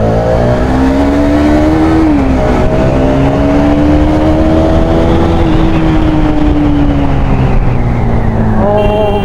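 A Kawasaki sport motorcycle accelerates along a road, its loud close engine note climbing, dipping briefly at a gear change, then rising again in a strong continuous drone.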